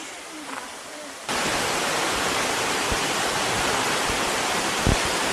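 Waterfall in Heullimgol valley on Seoraksan, a steady broadband rush of falling water that starts abruptly and continues loud and close, with faint voices before it begins.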